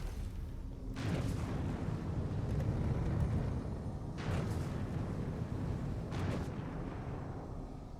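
Gunfire in the Dune video game aimed at a Navy ship, heard as a steady low rumbling roar with a few dull booming bursts spread through the stretch.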